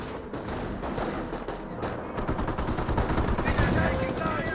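Dense gunfire from a Company of Heroes battle, with rapid machine-gun bursts and rifle shots from Panzer Grenadiers and US infantry crackling continuously and loudly, some thuds mixed in.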